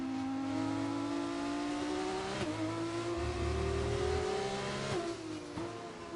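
F2 race cars accelerate around a track, one engine note loud and close, climbing steadily and dropping sharply at each gear change over a continuous mechanical drone, with no voices.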